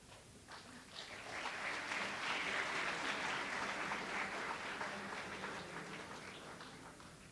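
Audience applause fills a hall during a B.Tech and M.Tech orientation session, a dense sustained clapping that swells after a second and holds steady to the end, with no talking over it.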